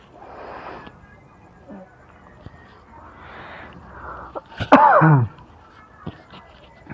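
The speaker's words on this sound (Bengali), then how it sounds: "জানি না হঠাৎ কেন কাশি হচ্ছে" A cook coughs while preparing chicken kosha in a hill-area kitchen: a short, harsh burst of coughing about two-thirds of the way through, rising over faint muffled background sounds and light kitchen noise.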